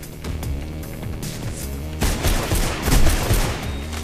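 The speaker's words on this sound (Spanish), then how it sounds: "Me cago en la ametralladora" Rapid machine gun fire in the first-person parkour game Mirror's Edge, dense crackling bursts that grow louder and heavier halfway through against a game soundtrack.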